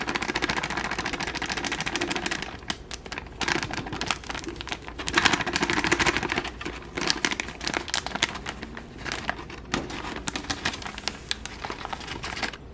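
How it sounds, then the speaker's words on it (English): Dry funnel cake mix is poured from its package into a plastic pitcher, giving a long crinkling, rustling patter with small clicks that goes on without a break for over twelve seconds. "So let's pour the mix in."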